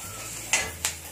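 Mustard seeds, asafoetida, green chili and garlic hit hot oil for a South Indian tomato-garlic chutney tempering, a steady close sizzle broken by two sharp crackling bursts.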